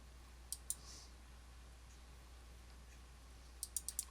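A computer mouse clicks sharply and close: two quick clicks, then after a pause a rapid run of four more, all over a quiet room hum.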